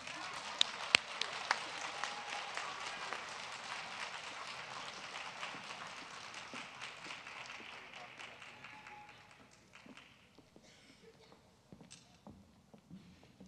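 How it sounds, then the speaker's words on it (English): An auditorium audience applauds speech and debate students from Royal High School at a school district event, a fairly quiet round of clapping that gradually fades out, leaving scattered taps and faint voices. "One more round of applause for speech and debate from Royal High School."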